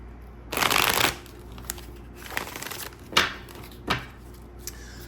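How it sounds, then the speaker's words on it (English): A tarot deck is shuffled quickly, with a long riffling burst followed by several shorter shuffles and quiet pauses, close and fairly soft. "I'll shuffle real fast."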